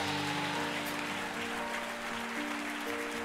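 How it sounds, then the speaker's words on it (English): A church congregation claps, a dense, even patter of many hands sounding like rain, heard from a distance with a sustained organ or keyboard chord underneath. "Give them a hand clap."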